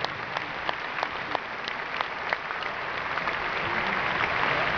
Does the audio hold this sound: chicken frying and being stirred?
no